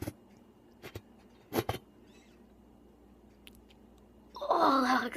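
Dog whining in the background, a faint high nasal whimper that rises clearly near the end amid soft scattered handling noises.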